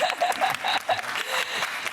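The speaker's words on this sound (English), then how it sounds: "A round of applause, please." Audience applause at a panel event on African entrepreneurship, a fairly soft, short burst of clapping with a few chuckles and murmurs in the room.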